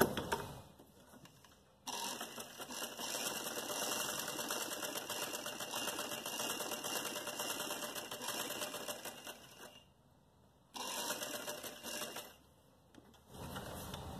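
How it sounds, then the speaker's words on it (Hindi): Sewing machine stitching the sleeve of an umbrella frock, a loud steady whirring run that stops briefly near two seconds, then runs again, pausing and restarting near the end. "ज्वाइन करने से पहले आस्तीन में यहाँ से सिलाई शुरू कर रही हूँ मैं"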